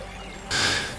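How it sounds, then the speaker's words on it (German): Gentle river water flowing beneath a tree canopy along the Nile, a soft steady wash that swells into a broader, louder rush halfway through. "wo das Wasser sanft unter Baumkronen herabfließt"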